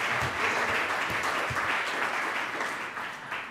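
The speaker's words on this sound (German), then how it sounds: "Applaus" Applause from a conference audience after a medical lecture, steady dense clapping from many hands that fills the whole stretch and fades slightly toward the end.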